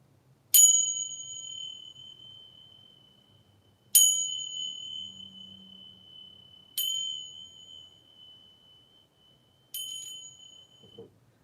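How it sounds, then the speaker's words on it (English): A small handheld bell rings four times, each strike a clear, bright ding that hangs and slowly decays in a quiet room, spaced roughly three seconds apart, with no one talking over it. "where's my little bells? A little bell."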